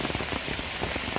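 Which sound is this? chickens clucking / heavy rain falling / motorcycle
heavy rain falling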